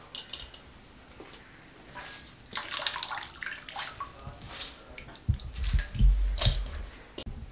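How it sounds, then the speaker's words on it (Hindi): Grated potatoes are squeezed by hand to wring out their water for crispy potato pakoras, with wet splashing and dripping that builds louder toward the end, close and without talk. "इसका पानी को रिमूव करना है, इस तरीके से उठाना है और इसको अच्छे तरीके से निचोड़ना है।"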